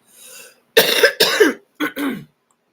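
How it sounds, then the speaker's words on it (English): A person coughs a few times in quick succession, loud and close, after a soft breath. "Excuse me, I still have the little cough going on."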